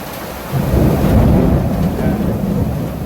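Thunder rolls loudly through heavy rain during a storm over flooded Manila, a deep rumble swelling after half a second and continuing over the steady hiss of rainfall.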